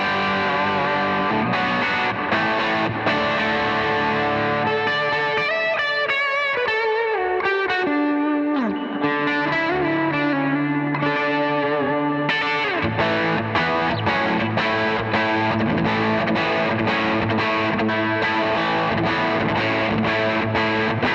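Electric guitar played through the drive channel of a Fender Hot Rod Deluxe amp, giving loud distorted riffs and sustained chords, with choppy rhythmic passages around a held, bending note in the middle; no talking.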